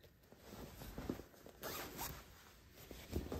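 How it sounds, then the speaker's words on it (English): A dress zipper is unzipped close up in a sewing room: a few quick, rasping zip strokes in short bursts, quiet and alone. "We're gonna unzip it."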